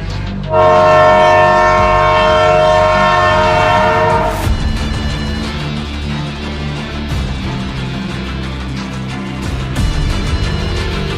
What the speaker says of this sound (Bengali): ট্রেনের হর্নের শব্দ আসছে কোথা থেকে?